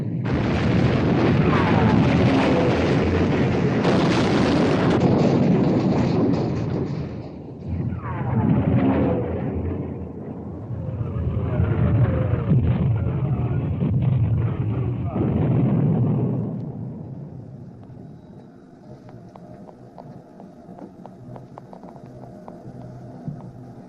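Warship guns fire in a 1960 naval war film, heavy booming blasts under shouted commands and busy battle noise, loud and sustained before the uproar thins out toward the end.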